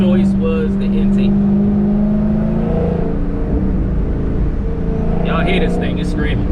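A Dodge Charger fitted with a Corsa Extreme exhaust revs hard, its deep droning tone rising and holding close by, with brief higher whirring bursts at the start and end.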